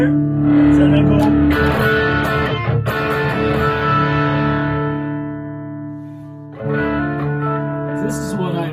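An electric guitar plays through the distortion channel of an analog mini pedal amplifier, loud sustained chords that fade, break off with a short gap, then ring again.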